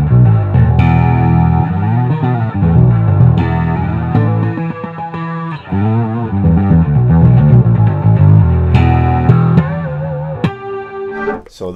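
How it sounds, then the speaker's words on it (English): Bass guitar run through distortion with an EBS chorus effect, playing a looped line; a thick, wobbling, gritty bass tone with chiming overtones sustains loudly throughout, with brief pauses between phrases. "you'll hear now just the distortion is chorusing."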